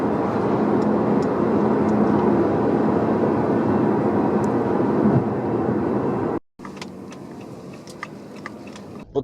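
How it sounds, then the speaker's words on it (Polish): Inside a Jeep Compass SUV at highway speed, a steady broadband whoosh of wind and road rush fills the cabin, then cuts abruptly to a quieter, thinner hiss with faint ticks near the end. "Nie jest głośno, słychać szum wiatru."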